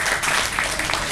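Brief burst of audience applause at a computer hardware overclocking event in Argentina, a short, loud, continuous wash of clapping from a crowd.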